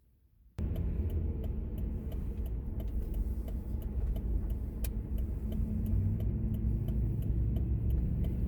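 Steady road and engine noise inside a car driving through the Maryville College area in Maryville, a continuous mid-level rumble with faint regular ticking, no talk.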